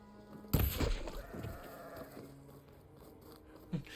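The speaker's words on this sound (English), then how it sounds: "It's the goat!" A goat bleats loudly in the video game Horizon Forbidden West, one sharp cry followed by a trailing, wavering call and a shorter bleat near the end against quiet game ambience.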